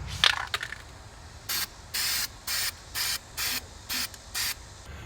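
Zinc weld-through primer sprayed from an aerosol can onto a Jeep TJ track bar bracket: after a brief rattle, seven short, evenly spaced bursts of loud hissing spray, close up, no talk.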